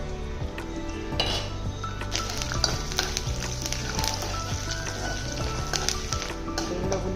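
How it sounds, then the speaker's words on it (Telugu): Spices for tempering fry in about two spoons of oil in a pan, giving a dense, continuous close sizzle with scattered clinks and scrapes of a utensil against the pan. "ఆయిల్ ఎక్కువేం పట్టదు, 2 స్పూన్లు దినుసులు వేసేసుకున్నాం."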